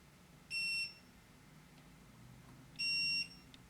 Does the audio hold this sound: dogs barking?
no